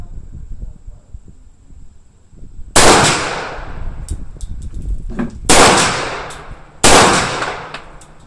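Three loud, sharp .338 Lapua Magnum bolt-action rifle shots ring out at an outdoor gun range, spaced a few seconds apart, each with a long decaying echo, over low background murmur and voices.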